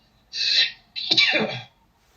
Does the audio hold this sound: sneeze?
yes